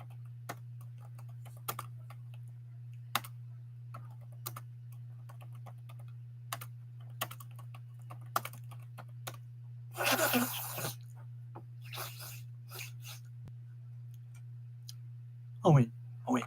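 Typing on a computer keyboard to write in a live-stream chat: scattered, quiet key taps spread across the stretch over a steady low hum, with a brief louder rustle midway and a short sound at the end.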